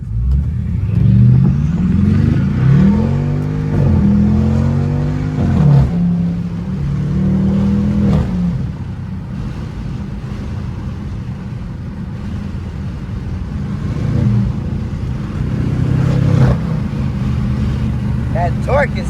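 A BMW 550i with catless downpipes and straight pipes rips through first gear, its engine rising and falling in loud, deep revving sweeps before settling into a steady rumble, with people talking over it inside the car.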